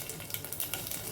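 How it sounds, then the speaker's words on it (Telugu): Tempering seeds, dried Kashmiri red chillies and garlic sizzle in hot oil for an amaranth-leaf tamarind curry, a steady close crackle with faint spits and pops throughout. "ఇప్పుడు తాలింపు పెడుతున్నాను"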